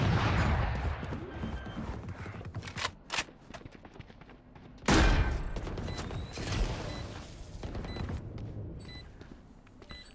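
Gunfire in a Valorant match, with dense bursts of shots and sharp loud cracks near the middle, continuing through the whole stretch in a busy, close mix of game sound.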